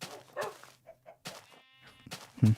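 Tamed wolf in the Minecraft video game barking in a few short, separated yips, close and moderately loud, with brief pauses between calls and no talk over them.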